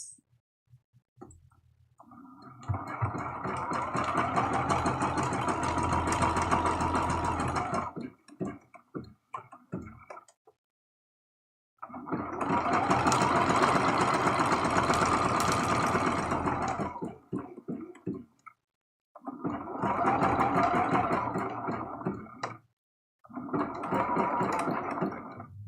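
A sewing machine stitches a heart rag quilt block in four runs of steady, rapid mechanical chatter, separated by short pauses with quiet handling clicks; close and alone, with no voice over it.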